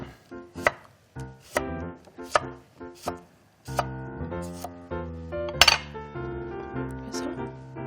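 A kitchen knife chops cucumber into thin julienne strips on a cutting board, with several crisp, evenly spaced strikes up close, followed by a quicker, denser run of cuts.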